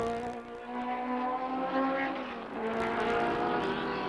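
Formula Atlantic race cars from 1975 lap a drying track, their engines blending into a steady, loud droning whine with rising and falling pitch and a swell as cars pass close by.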